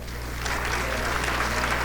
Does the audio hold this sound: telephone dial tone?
no